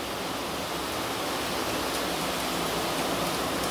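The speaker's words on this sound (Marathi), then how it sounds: "पहा मित्रांनो कसा पाऊस पडतोय." Heavy rain pours down in a constant dense hiss, loud and unbroken throughout, with no voices.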